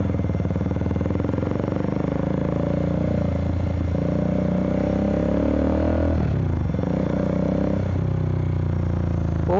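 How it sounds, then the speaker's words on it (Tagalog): Loud, steady mechanical whir and drone from the radiator fan of a Triumph Speed 400 motorcycle, running continuously up close with a slight dip partway through, no talking. "Ba't ganun yung tunog ng fan niya?"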